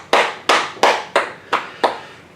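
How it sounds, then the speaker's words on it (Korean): A church congregation at a Friday evening worship service gives a short round of clapping, six loud, evenly spaced claps in unison, each with a sharp onset and quick decay, with no voices. "우리 하나님께 감사와 영광의 박수를 돌리겠습니다"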